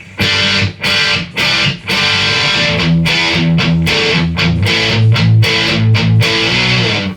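Loud, crunchy overdriven electric guitar through a Kemper amp profile plays chugging rhythmic chords and riffs, with sharp palm-muted stabs early on, then a continuous driving pattern.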